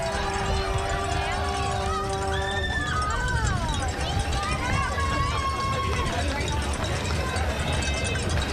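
A large crowd of runners surges off the start line of the 15th annual Cellcom half marathon, steady outdoor hubbub and footfall with whistle-like tones drifting over a continuous babble of voices.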